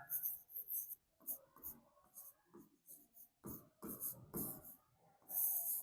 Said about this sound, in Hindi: कैलाश ऐसे लिखा जाता है।